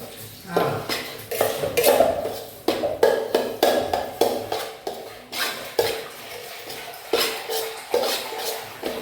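A spoon stirs oil in a metal pan while cutlets are being made at home, giving a steady run of rhythmic clinks and scrapes, close and fairly loud, with faint sizzling underneath.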